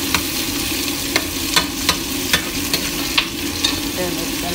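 Onions fry in a pan with a steady sizzle, while a utensil scrapes and stirs them in regular strokes about every half second.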